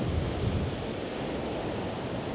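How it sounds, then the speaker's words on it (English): Wild waves surging onto a beach on the Greek island of Samos in stormy wind, a low steady roar of surf mixed with wind rumbling across the microphone, no voices. "Still is like this with very wild waves to come in the beach"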